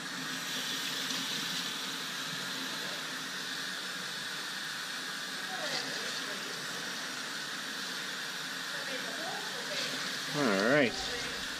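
Water from a tap rinsing out a part for a modified mechanic's cart, a steady close rush of running water throughout with a brief louder splash near the end.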